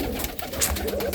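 Pigeons coo softly in an aviary, a few low rolling coos close by over faint background rustle and clatter.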